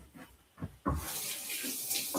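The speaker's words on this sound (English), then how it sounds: "So I'm gonna wash my hands again." Hands being washed under a running kitchen tap: a few soft handling knocks, then the water gushes on and splashes steadily and close for over a second.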